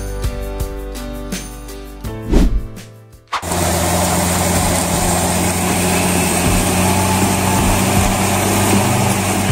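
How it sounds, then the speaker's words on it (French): A Fendt 1667 Vario MT tracked tractor working soil: after a brief mechanical whine and clunk, a loud, steady, close engine roar with strong low rumble holds for several seconds without speech. "Voici le summum de la puissance pour le travail du sol. Le Fendt 1667 Vario MT."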